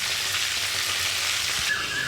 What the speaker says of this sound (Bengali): বোয়াল মাছের মাথাটাও আমি ভেজে নিচ্ছি।